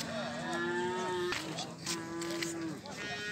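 Cattle moo repeatedly at a livestock market, long drawn-out lowing calls from nearby animals over a busy crowd murmur, with people talking in the background.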